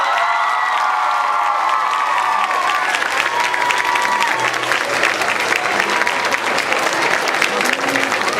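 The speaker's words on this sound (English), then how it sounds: "A big applause for Little Miss Sunshine" Audience at a school awards night applauding an award winner, dense sustained clapping filling the hall with some cheering and shouts mixed in, loud and close throughout.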